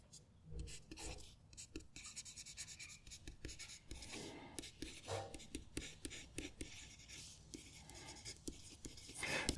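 A fountain pen writes on a Christmas card made of cardstock, soft close scratching strokes in short irregular bursts, faint and intimate, with quiet murmured speech mixed in.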